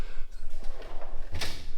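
A metal tool box drawer slides open once, a short scraping rumble with a faint click of loose tools near the end, close and fairly loud.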